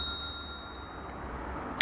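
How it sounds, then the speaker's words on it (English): Bell sound effect from the Kinemaster editing app's audio library, a single bright ding near the end after a stretch of quiet, faint background. "we're looking for bell, I think bells, and we've got bell 1"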